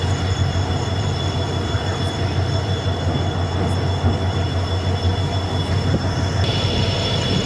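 A train at Manamadurai railway station gives off a loud, continuous low rumble of rolling wheels, with a thin high metallic squeal held steadily over it throughout. No one speaks.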